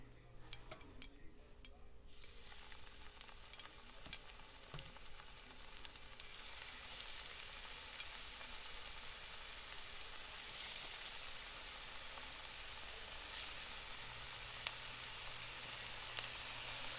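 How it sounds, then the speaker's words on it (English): Breaded catfish sizzles in hot frying oil in a cast iron pan, a faint crackle that bursts into a denser, steadily hissing fry after a couple of seconds, with scattered small ticks and clinks. "If it sizzles up pretty quickly and violently, you know it's about ready."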